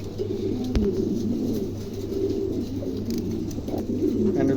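Pigeons coo softly and repeatedly, low throaty calls rolling on over a steady background hum with an occasional light click.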